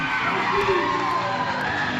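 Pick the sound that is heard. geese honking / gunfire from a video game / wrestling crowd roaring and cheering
wrestling crowd roaring and cheering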